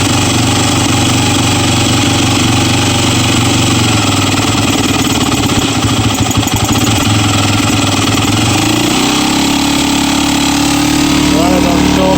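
Yamaha WR dirt bike engine idling on choke as it warms up after long storage, a loud steady close rumble with slight shifts in pitch and someone talking over it.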